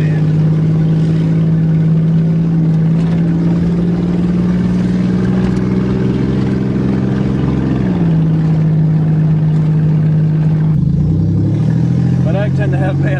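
Car engine on a test drive with no power steering, running steadily with a constant low hum that shifts pitch slightly around the middle and drops near the end, while people talk over it.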